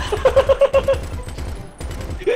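Rapid gunfire in GTA V, a quick burst of evenly spaced shots followed by a few more after a brief pause, moderately loud and close, with a voice talking excitedly alongside.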